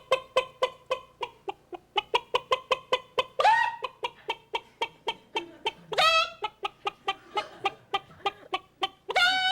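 A person imitates a chicken cackling with a rapid string of clucks and several rising squawks. The voice is close and clear, with no other sound behind it.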